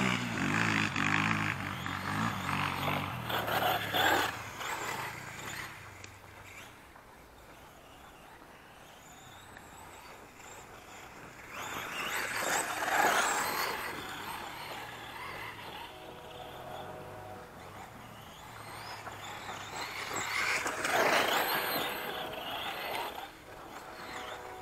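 A Mugen RC bash car drives outdoors, its electric motor whining in swells as it speeds up and slows, rising loud twice before fading back to a faint buzz.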